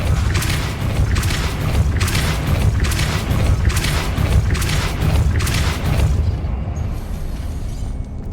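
Depulso spell blasts in the video game Hogwarts Legacy, a series of loud booming bursts in a steady rhythm over a deep rumble, fading out near the end.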